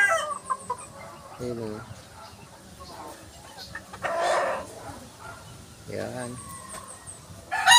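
Young stag roosters in a farm pen, clucking and crowing at close range, with someone talking over the birds and louder crowing bursts near the end.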